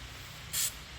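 A spray can lets out one short hiss as it coats a rusty, corroded battery strap on a Toyota Sienna, loud and brief over a quiet background.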